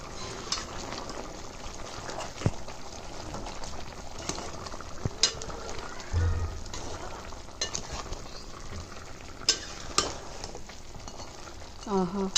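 Chicken curry bubbles and sizzles in a hot pan as its released water cooks off, a steady low frying crackle broken by scattered clinks and scrapes of a stirring spoon against the pan.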